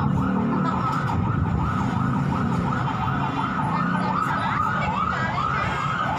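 Wailing emergency sirens from fire engines responding to a boarding-house fire in Kuningan, South Jakarta, sound loud and close, rising and falling continuously over street noise for several seconds.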